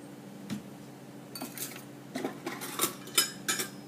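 Measuring cups are handled in a kitchen, making light clinks and clatters that come in scattered bursts and grow busier toward the end, close by and with no speech.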